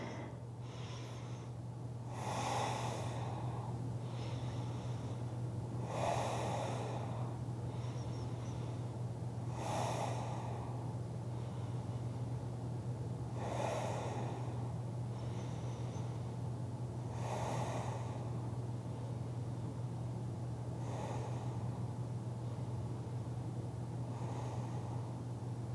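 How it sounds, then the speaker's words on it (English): Slow, deep breaths during a yoga hip stretch, about seven breath cycles spaced evenly over a steady low hum, close and soft with no talk. "we'll take 10 rounds of breath right here"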